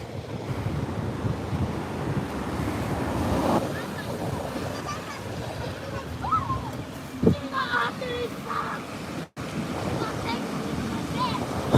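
Ocean waves at Montara State Beach in California, a steady broadband rush of surf with wind buffeting the microphone, and a person talking over it.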